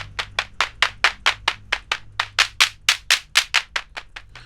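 Synthesized claps from the noise oscillator of Ableton Live's Analog synth, with the other oscillators turned off, play as a steady run of about twenty sharp, bright, evenly spaced hits. They are loud and alone, with a faint low hum underneath.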